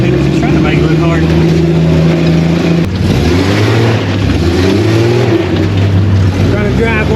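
A Jeep Comanche's engine revs loudly and steadily as the truck works up a rough off-road trail. The drone shifts in pitch partway through, and there are voices in the background.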